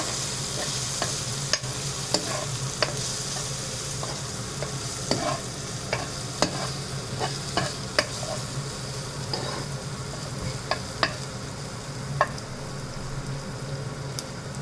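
Spices, including red chili powder, are stirred in a hot pan for brown bread upma: a steady close sizzle and frying hiss with regular scraping spoon clicks, no talking.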